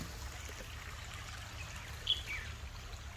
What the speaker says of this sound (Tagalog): Maliit na ilog.